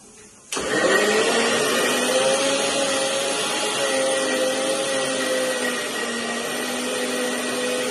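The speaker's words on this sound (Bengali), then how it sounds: "এবার একটুখানি আর একবার জাস্ট ব্লেন্ড করে" An electric mixer grinder blends a spice paste with a little salt added, switching on abruptly and then running as a loud, steady motor whine with a harsh grinding roar.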